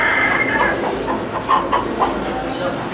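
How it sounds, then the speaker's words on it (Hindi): A chicken clucks in short bursts amid a noisy, busy background with a low continuous rumble, moderately close and fairly loud. "दोस्तों ये दक्कनी कुलंगी मुर्गी है, मियाँ वाली साइड की दक्कनी मुर्गी है।"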